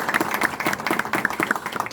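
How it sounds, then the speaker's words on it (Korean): Crowd applause welcoming a mayoral candidate at a party members' meeting: a brief, moderately loud burst of overlapping clapping from a room of people, with no talk over it. "여러분 큰 박수로 맞아주시기 바랍니다"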